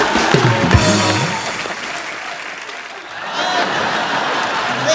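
Studio audience applause on The Kapil Sharma Show, a dense, loud wash of clapping with some laughter that dips slightly midway and then swells again, with a voice briefly audible over it.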